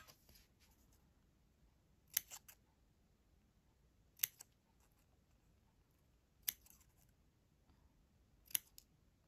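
Small scissors snip paper stamps in four sharp, isolated cuts spaced about two seconds apart, close and fairly quiet against a faint room hiss.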